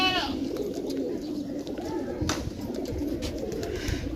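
Pigeons on a rooftop in Azad Kashmir coo in soft, repeated throaty phrases, close by, over a steady outdoor background with faint voices.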